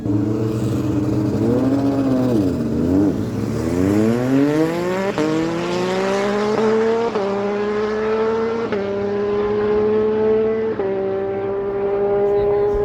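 A 1987 Ford Ranger and a motorcycle launch side by side at a drag strip in Baxter's Corner, New Brunswick, engines revving hard through rising, shifting gears. The roar is loud and continuous, with a track announcer talking over it.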